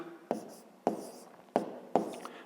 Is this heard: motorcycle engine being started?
no